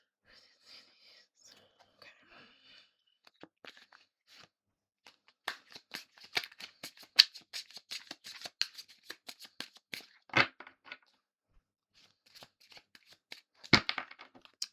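Oracle cards being shuffled close up: a quick run of crisp riffling and flicking sounds, bursts of papery snaps with short pauses between.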